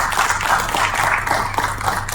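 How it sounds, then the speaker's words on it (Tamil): Audience applause in a crowded hall at a Tamil film event, a steady wash of many hands clapping together with a low hum underneath and no voices on top. "ஒரு தடவை நம்ம எல்லாரும் கைத்தட்டிடுவோம்"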